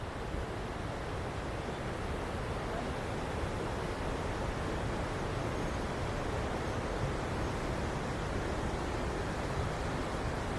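Vaithalkundu waterfall at the source of the Alakode river, a steady broadband rush of falling water that holds constant and unbroken throughout, with no voices.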